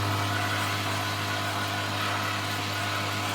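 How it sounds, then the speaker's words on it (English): An air compressor runs steadily in a home scroll-saw workshop, a constant low motor hum with broadband hiss that stays even and continuous throughout. "you hear my compressor going on"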